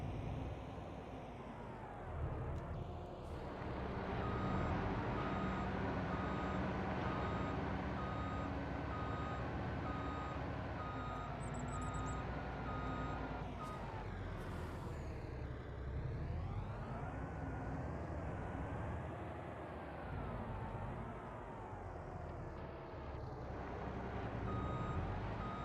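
Truck reversing beeps in Farming Simulator 25, a steady repeating high tone over a continuous engine rumble throughout, loud and close, with no talk.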